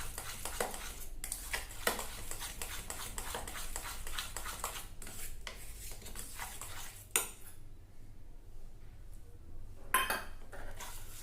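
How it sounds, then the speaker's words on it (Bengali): A spoon beating cake batter made with biscuit crumbs in a bowl, rapid rhythmic clinks and scrapes against the sides, close and steady, with a couple of louder knocks near the end. "এরকমভাবে ভালো করে আমি চামচ দিয়ে ভালো করে ফেটতে থাকবো।"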